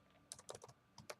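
Quick bursts of keystrokes on a computer keyboard, close and quiet, with a handful of clicks in uneven clusters.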